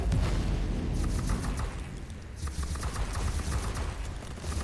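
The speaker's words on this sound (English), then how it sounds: "See, some nice machine gun Daka." A machine gun fires in the Warhammer 40k: Inquisitor - Martyr video game: a sustained, rapid rattle of shots with booming impacts, loudest at the start, then continuing at a steady, slightly lower level.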